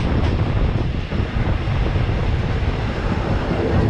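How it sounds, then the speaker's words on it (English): Inside a moving train, a loud, steady rumble and broadband roar fill the space continuously, with no clear voices. "We're in the train right now."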